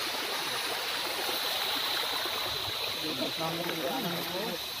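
River water flowing along a work site, a continuous broadband rushing and trickling wash, with a person talking over it toward the end.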